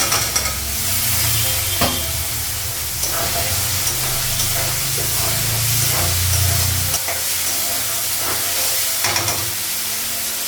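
Spices and potatoes fry in a pan for a Bengali rohu fish curry, a steady close sizzle and hiss with scraping stirs throughout; the low rumble drops away about two-thirds through while the frying continues alone.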